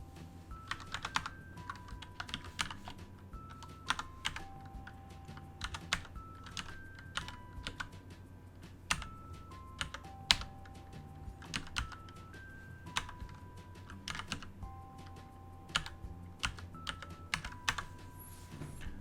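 Steady clatter of keystrokes on a computer keyboard as a DaVinci Resolve 17 license activation key is entered, irregular bursts of close, crisp clicks continuing alone for about nineteen seconds.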